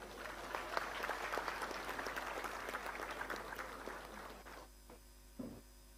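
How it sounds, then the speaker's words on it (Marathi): An audience claps loudly at a housing lottery draw ceremony held by the MHADA Konkan Board, the dense applause holding steady for about four and a half seconds before thinning out into a few scattered claps. "त्यांच्यासाठी एकदा जोरदार सगळ्यांनी टाळ्या वाजवाव्या"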